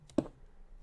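A single crisp keystroke on a computer keyboard during Minecraft play, one sharp click near the start and then near silence, with a faint second tap at the very end.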